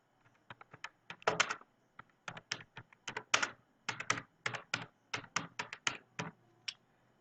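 Fingers tap out text on a computer keyboard while filling in an online land-tax form, bursts of quick, close keystrokes separated by short pauses, with no talking.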